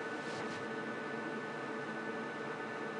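Pecron E3600LFP budget power station and solar generator running at full output, heard from about one meter away as a steady, even hiss of cooling fan noise with no breaks, moderately quiet and alone.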